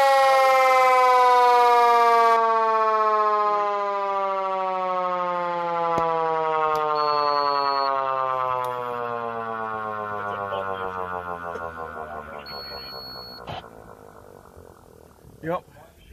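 A Federal Q mechanical siren at an airbase winds down from a loud, high wail, its rotor coasting lower and fainter over about sixteen seconds, with a short tone blip and a clunk near the end.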